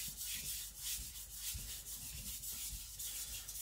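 A custom Chinese cleaver is rubbed back and forth on whetstones in a quiet, rhythmic scraping of repeated strokes, close but faint, with no talk.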